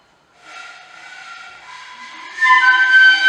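A train sounds its whistle at a railway station platform, rising from a moderate tone to a louder, brighter blast over a few seconds, heard with no voices.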